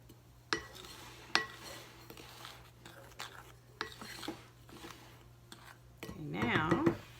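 A spoon stirs Mexican meatloaf ingredients in a bowl by hand, giving several sharp clinks and scrapes against the bowl at irregular intervals, ending in a denser burst of scraping, with quiet talk at times.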